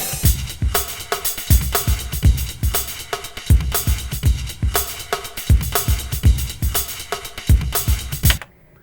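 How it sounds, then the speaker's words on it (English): A programmed drum groove from a Battery sampler plugin plays a tight, steady loop of punchy kicks, snares and bright cymbal hits in a repeating pattern, then stops abruptly. "This is a MIDI track that was created using an internal plugin called Battery, and it's just a drum groove."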